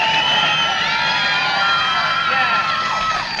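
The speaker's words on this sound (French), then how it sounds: "je vous demande de l'applaudir très très très très très fort" A studio audience at a French comedy game show cheers and shouts loudly and continuously, a dense wash of many voices.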